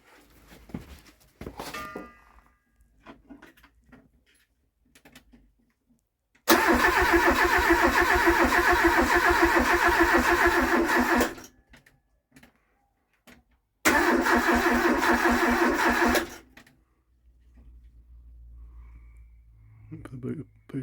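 A Talbot Horizon engine fitted with motorbike carburettors cranks in two long loud bursts, separated by a pause, with quiet handling sounds before and after.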